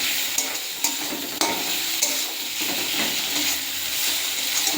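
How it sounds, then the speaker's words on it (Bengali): Masala of tomato, onion, ginger and garlic being stir-fried, with a steady sizzle under repeated spoon scrapes and taps against the pan, close and fairly loud, no voices. "আমি এই মশলাটা একটু কষিয়ে নিচ্ছি টমেটো দিয়ে।"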